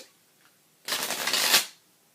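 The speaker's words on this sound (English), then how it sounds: "And it's a cute little shuffle, too." A small mini tarot deck is shuffled in one quick riffle, a brief crisp fluttering zip that rises and then stops, close and clear.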